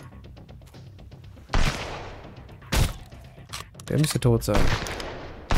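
Gunfire in the survival video game Sunkenland, with several sharp loud shots and bursts scattered through the clip while someone speaks German between them.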